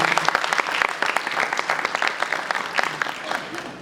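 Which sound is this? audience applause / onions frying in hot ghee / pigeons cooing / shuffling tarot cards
audience applause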